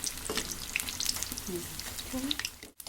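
Ridge gourd bajji sizzling in a shallow layer of hot oil as the pieces are turned one by one, a steady close crackle with small pops and a brief clatter near the end.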